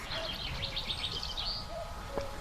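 A cuckoo calls faintly by the River Waveney, its soft low notes set among quick, high twittering birdsong in an open outdoor setting.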